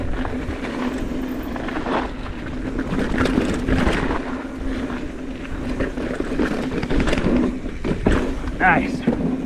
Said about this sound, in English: Now the wind's kicking up. Something fierce.